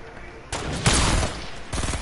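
Fortnite gunfire: a burst of distant shots followed by a louder, sharper volley, then rapid repeated shots, at moderate game volume.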